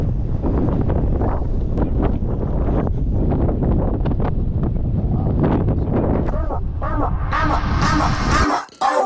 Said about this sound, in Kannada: ಸಿಕ್ಕಾಪಟ್ಟೆ ಗಾಳಿ ಇದೆ